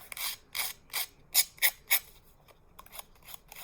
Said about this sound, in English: I'm just going to use my sanding block, sand those off